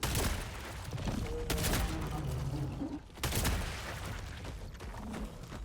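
Gunfire in the Helldivers 2 video game: dense, continuous shooting with sharp louder cracks near the start and midway, a brief dip, then sustained fire, with faint voice traces underneath.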